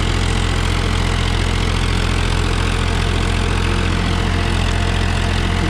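A Powertrac Euro 50 tractor drives a rotavator, producing a constant dense engine drone with rhythmic low thumping and mechanical churn, loud and close, steady for the whole stretch with no voices.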